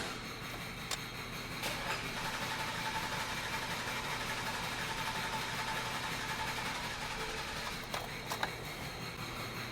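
A 2003 Hummer H2 with a 6.0L V8 idles steadily with a dead cylinder misfire, giving a continuous uneven drone with a few faint clicks and no talk.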